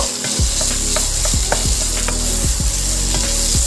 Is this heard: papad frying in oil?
yes